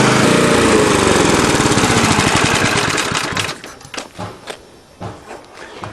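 Old Briggs and Stratton lawn mower engine running loud and steady for about three seconds, then cutting out into uneven sputtering bursts as it dies down.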